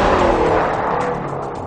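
A 2010 Ford Mustang Shelby GT500 accelerates hard nearby with a loud, steady engine roar and a raspy, squealing edge, as if its tires are being lit up, holding strong throughout.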